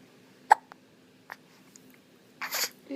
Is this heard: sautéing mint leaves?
no